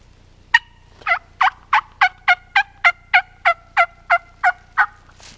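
Wild turkey gobbler gobbling in a long run of about a dozen evenly spaced, loud, rattling calls after one sharp opening note, alone with no talk.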